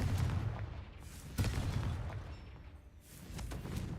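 A Confringo fire spell blasts in the Hogwarts Legacy video game, sounding as a couple of sharp booming bursts over a rumbling low background, close and fairly loud, with no talking.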